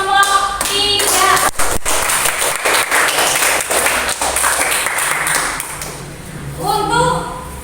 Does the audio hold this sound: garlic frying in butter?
no